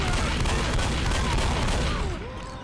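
Dense, loud gunfire from Left 4 Dead on the Sacrifice campaign, a continuous barrage of overlapping shots and booms that tapers slightly near the end.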